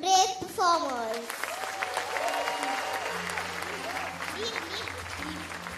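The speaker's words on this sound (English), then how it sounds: "I urge the audience to please cheer our little brave performers." Parents and guests applaud young performers at an annual day celebration at CP Goenka International School. A voice speaks briefly at the start, then sustained clapping and crowd murmur carry on steadily with brief speech mixed in.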